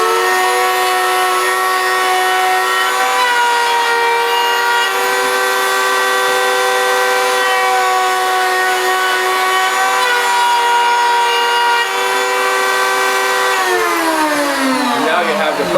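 Two routers shape a piece of white oak firewood, giving a loud, steady high-pitched motor whine that holds for about thirteen seconds and then spins down near the end.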